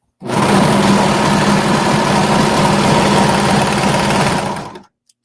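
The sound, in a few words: sewing machine basting pockets onto skirt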